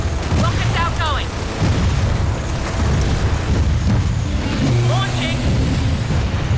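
Rockets booming and exploding in the shooter game Gears of War 4, heavy rumbling blasts layered with combat noise and voices talking over the din.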